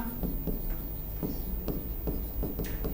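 Chalk or marker strokes on a board during a Hindi language lesson, a series of short scratchy taps and scrapes in uneven rhythm, fairly close and moderately quiet, with no talking.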